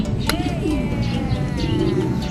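Pigeons coo softly and repeatedly up close, low rolling calls over a constant background hum with a brief chirp early on.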